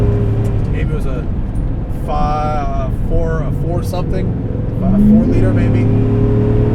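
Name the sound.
1998 Jeep Grand Cherokee 5.9 V8 engine revving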